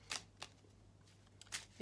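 Tarot cards shuffled by hand: a few short, soft riffling bursts with brief pauses between them, close by and quiet, with no talking.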